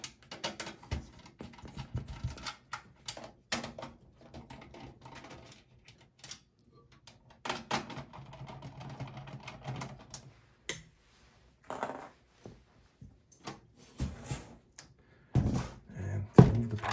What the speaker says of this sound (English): Now I'm going to go in the back and remove the screws here for the power supply.